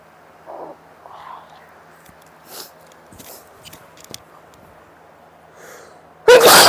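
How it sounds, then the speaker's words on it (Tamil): A person sneezes loudly and abruptly after sniffing snuff during a sneezing challenge, preceded by a few soft sniffs and quiet rustles in a calm room. "இதுக்கு எனக்கு தும்மல்."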